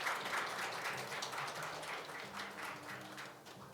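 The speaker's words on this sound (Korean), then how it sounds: "박수로 축하해 주시기 바랍니다." At a company New Year ceremony, a large audience applauds softly and steadily, with sustained overlapping claps heard from a distance in a reverberant hall.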